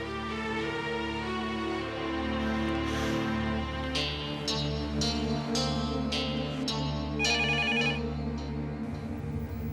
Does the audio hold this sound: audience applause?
no